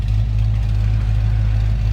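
A 1966 Ford Mustang coupe's 302 V8 idles with a steady, deep throaty exhaust rumble, loud and close, with no other sounds over it.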